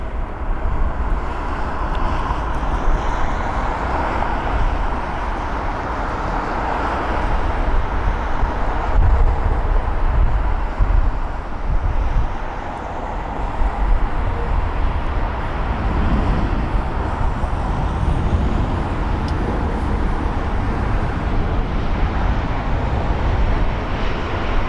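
Airbus A320neo airliner arriving at London Heathrow, a loud continuous engine roar and rumble that holds steady throughout, mixed with wind noise and no speech.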